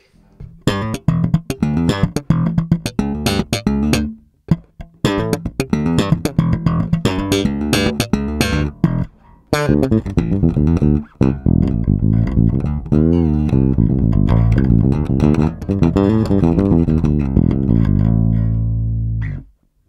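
An Alembic Signature electric bass with flat settings, both filters fully open, Q switches off and both pickups on, plays a continuous line of punchy plucked notes and slides, loud and clear, alone for about twenty seconds.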